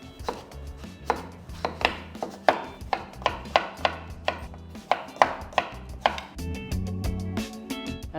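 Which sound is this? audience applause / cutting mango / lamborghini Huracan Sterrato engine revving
cutting mango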